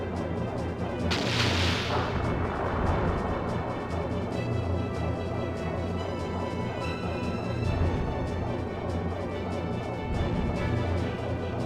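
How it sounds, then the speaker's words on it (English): A Moonstone cannon fires in the airship battle video game Skies of Arcadia, one heavy booming blast near the start that trails into rumbling over a steady, dense backdrop of battle noise and music. "We can fire a Moonstone cannon."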